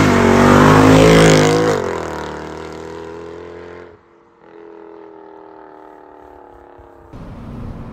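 A Mercedes C63 AMG with a 6.2-litre V8 drives along a tree-lined country road, engine roaring loudly under acceleration, then settling into a steady lower drone with a brief lift-off dip before rising again.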